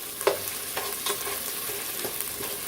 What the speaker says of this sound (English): Use the bacon grease that is in there. Use that to fry up the onions.